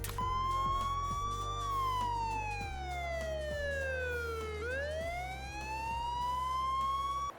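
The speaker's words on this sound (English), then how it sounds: "if you add to that by adding a siren" A muscle car's added siren wails continuously, its pitch sliding slowly down and then sweeping back up, loud and close with a low engine rumble beneath.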